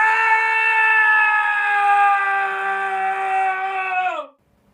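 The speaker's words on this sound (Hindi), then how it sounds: "जभी एक अचानक किसी इंसान के चिल्लाने की आवाज आई" A person's dramatized scream, a long sustained shrill cry held steadily and loudly for about four seconds before breaking off abruptly into silence.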